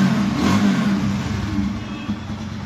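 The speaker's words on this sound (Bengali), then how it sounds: "বাইকটির সাউন্ড কন্ডিশন আপনাদেরকে একবার দেখুন।" A second-hand TVS Apache RTR 160 2V motorcycle in fresh condition revs up close and loud, its engine swelling early and then holding a rough, steady drone.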